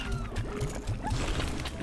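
Slimes in the video game Slime Rancher make a cute rhythmic series of five or six short, soft, bouncy chirping squeaks in quick succession against game ambience.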